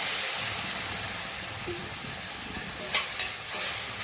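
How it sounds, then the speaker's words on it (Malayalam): Vinegar poured into a hot pan of spice mix for green apple pickle gives a steady soft sizzle and hiss, with a brief louder spurt near the end. "അല്പം വിനാഗിരി ഒഴിച്ചു കൊടുക്കാം"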